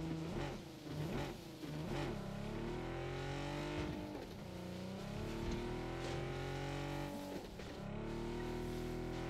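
A car driven in the battle royale game PUBG, its engine droning and revving up and down in repeated surges, with a rough rumbling tone that stays loud and close the whole time.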